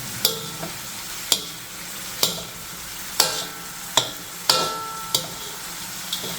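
Tomatoes cook in a kadhai for a spicy chicken curry, giving a steady low sizzle with about eight sharp clacks of a spatula against the pan at a roughly even pace.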